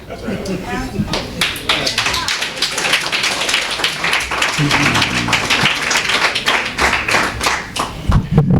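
An audience claps at a board meeting, with dense, sharp hand claps and some heavier thumps in a steady, irregular patter lasting several seconds, and voices talking underneath.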